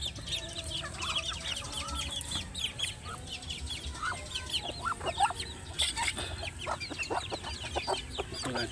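Backyard chickens cluck and chatter nearby in a quick, uneven stream of short calls, with a low outdoor background.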